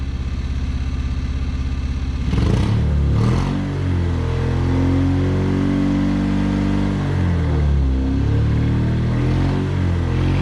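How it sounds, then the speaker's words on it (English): Loud, close car engine idling and then revving in repeated swells, seemingly held back in limp mode and never climbing past a ceiling, with the rumble rising and falling. "Rev it up."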